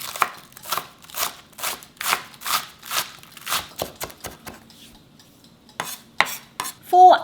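Four green onions chopped with a knife on a cutting board, a quick run of crisp, evenly spaced thuds close up that slows and thins, then resumes in a short burst.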